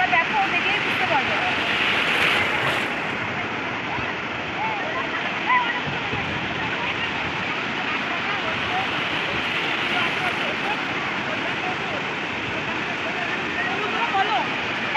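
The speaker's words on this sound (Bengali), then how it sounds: "এখন কিন্তু ঢেউগুলো বাড়ছে।" Sea waves roll and break on Bakkhali beach in a steady, loud roar of surf, with wind noise adding a continuous rushing hiss.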